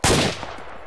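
Sustained automatic gunfire from an ARMA 2 firefight, a loud burst opening the second and rolling on as dense rapid shots with echoing tails, no talking.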